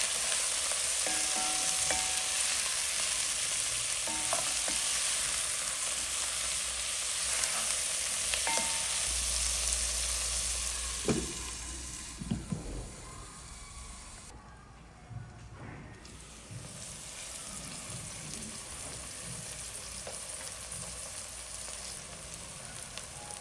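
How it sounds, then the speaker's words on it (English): Tomatoes with salt cook in a covered pot on the stove, giving a steady close hiss and sizzle that dips midway and then continues more quietly with faint crackles. "So we add salt to the tomatoes just to help it break it easily and become softer. After this, we stir the mixture up and then cover it."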